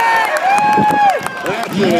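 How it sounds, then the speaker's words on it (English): A crowd cheering and shouting at a field gun time-trial event, with excited voices rising and falling over a close announcer's speech and some scattered clapping. "big cheer for Young Bears!"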